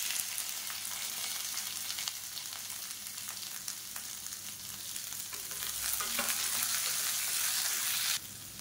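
Long-sliced onion fries in a pan for chutney, a loud, continuous close sizzle with occasional stirring scrapes that swells slightly near the end before dropping off.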